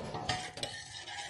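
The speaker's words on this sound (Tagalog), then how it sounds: "Tapos haluin." A utensil scrapes and clinks while stirring food seasoned with salt and pepper in a pan, with a soft sizzle beneath the close, brief strokes.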